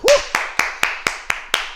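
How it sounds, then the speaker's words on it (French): A boxing fitness class claps for itself as a group, following one short shouted voice with seven sharp, evenly spaced claps in a steady rhythm, each crisp and close, ringing briefly in the room. "On s'applaudit jusqu'à maintenant."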